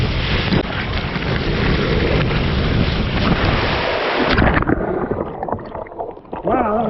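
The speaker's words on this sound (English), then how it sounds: "That was a pretty fun water slide." A rider splashing down a water slide at an RV resort on a chilly late-summer day, with continuous rushing water and wind buffeting the microphone, ending in a splash and nearby voices.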